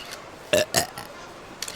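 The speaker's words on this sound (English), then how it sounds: "Annoyed, Regina burps." A cartoon woman's burp in a motion comic, two short rough bursts close together, loud and near, followed by a fainter trailing sound.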